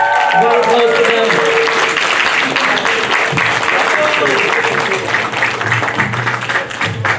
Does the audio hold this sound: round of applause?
yes